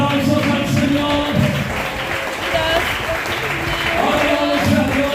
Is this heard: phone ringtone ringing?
no